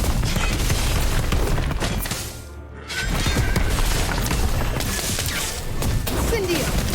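Bomb spell explosions in the Harry Potter Magic Awakened video game, a dense barrage of booming, crashing blasts that briefly drops away before resuming loud and continuous.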